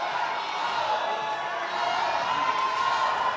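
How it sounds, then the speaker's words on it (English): An indoor rowing team relay crowd at the Warrior Games sends up a steady, raucous roar of cheering that fills the hall continuously, with a voice talking over it. "You can hear a raucous roar from this crowd."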